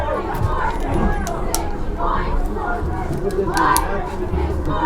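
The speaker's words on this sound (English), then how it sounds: "Nice to hear the buzz of the crowd here." Steady crowd murmur from the stands at a high school football game, a diffuse babble of many voices at moderate level with no single speaker standing out.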